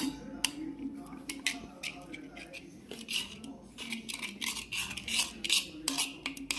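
Spice mix being stirred together with ginger-garlic paste while making veg pulao, a spoon scraping and clinking against a metal pot in quick, irregular ticks, fairly close and steady over a low background hum.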